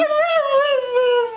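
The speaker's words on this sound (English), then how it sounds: "Sounds like a dog, talks like a dog, looks like a dog." A dog lets out a long, wavering howl, one close and loud tonal cry that bends up and down in pitch before trailing off.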